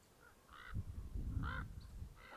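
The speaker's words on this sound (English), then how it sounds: "You can hear the birds off in the distance." Faint caw-like bird calls sound off in the distance against low rumbling outdoor background noise at an Army of Darkness filming location; a few separate calls spaced apart.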